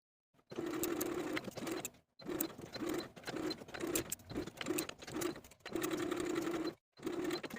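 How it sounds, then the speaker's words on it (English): Sewing machine basting a fabric sleeve and its gathers: loud, close mechanical whirring in several bursts of one to two seconds separated by short pauses. "Then take it to your machine and we can baste the sleeve and its gathers in place and repeat for the other sleeve."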